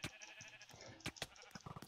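Sheep bleat in the video game Sheep Quest, a few short cries breaking through busy game sounds and clatter in a quick burst.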